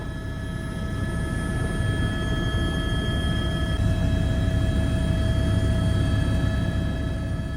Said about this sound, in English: this is my first time ever flying on a helicopter